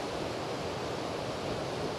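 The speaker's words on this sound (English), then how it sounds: "the waterfall down here" A waterfall at a popular summer swimming spot gives a steady, dense rush of falling water, constant and unbroken, with no voices.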